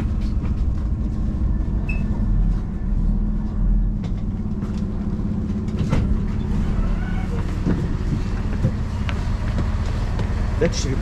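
A train pulls into Slivnitsa station, a loud steady rumble of rolling wagons with clanks and brake squeals, heard close by while people talk.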